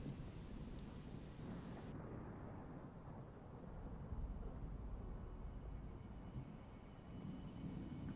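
Steady rain with rolling thunder forms a dense, continuous storm ambience behind a Curse of Strahd tabletop session, with a low rumble swelling midway and no voices present.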